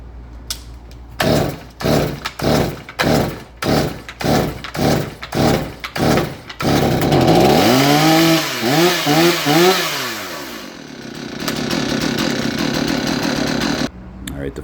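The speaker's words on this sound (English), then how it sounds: "putting pressure on the top of the saw and pulling until that clears and actually starts" A Stihl chainsaw is pull-started with the throttle fully depressed: about nine loud, rhythmic cord pulls sputter before the engine catches, revs hard in rising and falling surges, then settles into a steady, loud run.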